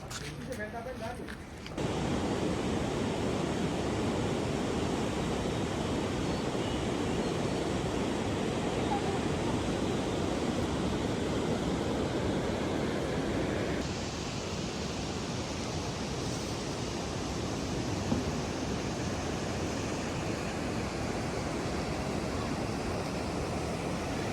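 Heavy rain falls steadily on a hill road between Surkhet and Jumla, a dense continuous broadband hiss that stays loud and even throughout, with a brief softer moment at the start.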